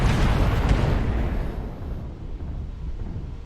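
Artillery strike explosions in the MechWarrior video game, a loud close rumbling blast that rolls and fades over a few seconds into a lingering low roar.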